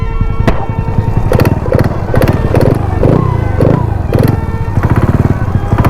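Near and loud, a knocking motorcycle engine idles roughly, with a steady rattling clatter broken by uneven thumps and stumbles as the engine labors.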